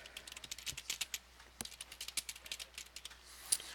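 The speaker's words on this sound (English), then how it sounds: "And I can type my message down here." Quick bursts of keystrokes on a computer keyboard as an email message is typed, with light, close clicks falling in an uneven rhythm and no voices.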